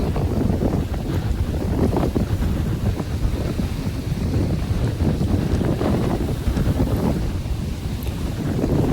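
A stormy sea whipped up by strong wind, with heavy gusts buffeting the microphone over a continuous roar of churning waves, loud and unbroken with no voices.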